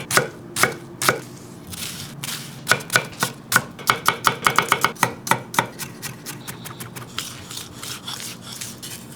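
A knife chops a medium-sized onion on a cutting board, with a series of sharp, close knocks, some in quick bursts, then a run of lighter, faster cuts and a brief scraping sweep.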